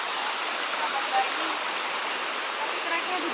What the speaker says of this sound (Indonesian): Tuh, ke bawah situ ada air terjun.